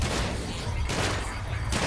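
Dense bursts of weapon fire from the Sunset Overdrive video game, a rapid continuous rattle across the whole moment with brief louder surges, no voices over it.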